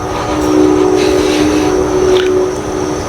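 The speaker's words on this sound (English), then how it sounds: "Shut up, train." A train passes nearby, a steady rumbling wagon noise with a sustained tonal hum and a brief whistle-like rise, loud and continuous throughout with no talking.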